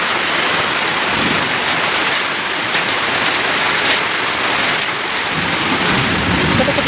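Heavy rain pours steadily during a thunderstorm outside a village home, a loud, dense, continuous roar of falling water with no let-up across the whole stretch.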